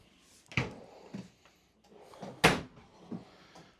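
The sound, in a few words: pull-out kitchen drawer opening or closing in a Jayco North Point RV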